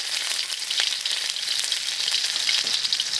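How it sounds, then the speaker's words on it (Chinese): Sauce paste with coriander stir-fried in hot oil in a wok, a steady loud sizzle and crackle throughout with no voices. "锅里加点油，开始炒料汁，香菜爆香"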